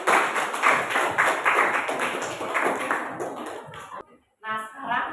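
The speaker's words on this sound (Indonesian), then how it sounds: "Ya, tepuk tangan untuk Heru." A classroom of students claps for a classmate named Heru, a quick run of rhythmic, fairly close hand claps lasting about four seconds before a brief silence and a voice speaking.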